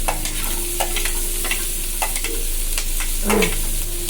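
Garlic frying in a home kitchen pan is stirred with a spoon, steady sizzle under quick scraping strokes and a few sharper clinks, close and alone without talk.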